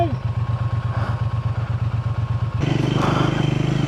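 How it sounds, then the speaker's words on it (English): Triumph motorcycles ride over rough off-road terrain near Karjat, a steady pulsing engine chug close by that rises in pitch and loudness partway through as the bike pushes harder. "It is not easy to ride such bikes in this terrain."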